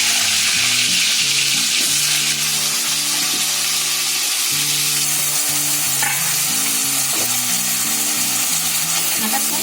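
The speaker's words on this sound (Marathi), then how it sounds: "बटाटे बघा तेलात टाकल्याबरोबर चरचर चरचर आवाज येतोय." Potatoes sizzle loudly and steadily as they fry in hot oil in a wok, a dense continuous crackle that persists throughout, with a tonal musical backing underneath.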